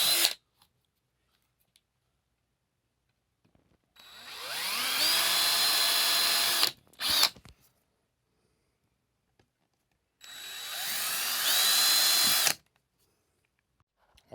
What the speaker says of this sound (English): the tedious process of drilling the holes